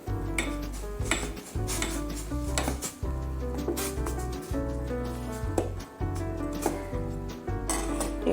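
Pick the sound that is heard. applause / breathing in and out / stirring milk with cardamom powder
stirring milk with cardamom powder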